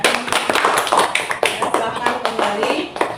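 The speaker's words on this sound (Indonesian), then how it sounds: "Kita beri tepuk tangan untuk kelompok 3." A classroom group claps for presenting students, giving dense, loud, close clapping throughout with voices mixed in.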